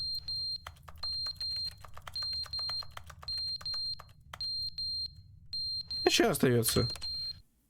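Alarm in The Stanley Parable game, high electronic beeps repeating in a steady pulsing pattern over a low hum, then someone speaks briefly near the end.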